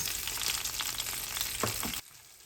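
Chilies and garlic sauté in a pan with a bright, crackling sizzle that runs for about two seconds, then cuts off abruptly to near silence.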